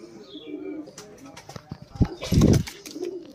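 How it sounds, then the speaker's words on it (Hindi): Pure Rampuri pigeons in a loft give low, throaty coos in short bursts, close by, with soft chirps and a brief stir of movement. "ये प्योर गहरे रामपुरी कबूतर हैं"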